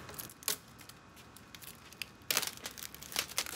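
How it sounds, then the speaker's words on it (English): Plastic wrapping being pulled and peeled off a new butcher block countertop, with sharp crinkling and tearing bursts, one near the start and a louder run of rustling toward the end. "So we are unwrapping this butcher block."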